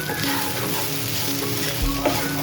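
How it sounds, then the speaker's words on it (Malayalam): Grated coconut frying in hot oil with soya chunks, a loud, dense, continuous sizzle close up with a brief stirring knock near the end, and no voices. "നമ്മൾ ഈ നാളികേരം ഒന്ന് നല്ലപോലെ ഇതിൻ്റെ അകത്ത് കിടന്നൊന്ന് ഫ്രൈ ആവണം"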